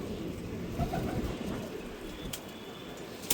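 Soft, low home-bred pigeon cooing murmurs throughout at moderate distance, steady and unhurried, with faint background hiss and no speech.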